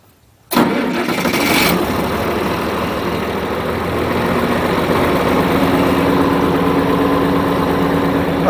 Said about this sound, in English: All right, tractor crank.